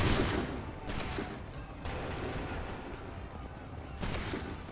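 Musket volleys in Assassin's Creed III, several sharp bursts of massed gunfire at irregular intervals over a constant rumbling battlefield din.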